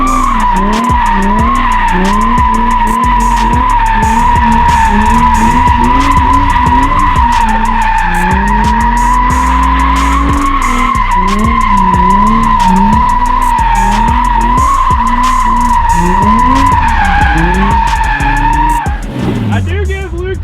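A drift car thrashing around in mud, engine revving hard and tires squealing and skidding almost continuously, loud and close, with voices talking over it.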